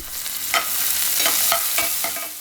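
Onion and green chili frying in a hot tempering of cumin, mustard seeds, curry leaves and peanuts, a loud continuous sizzle with stirring scrapes at a steady rhythm, close and alone.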